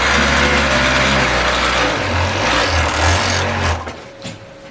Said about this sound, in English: So I'll just do a few more seams for you on that.